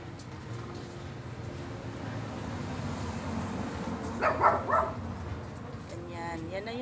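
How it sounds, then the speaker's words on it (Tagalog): Two pet dogs outdoors give a few short barks and yips near the middle, under a person's ongoing talk and background noise. "Dalawang alagang aso."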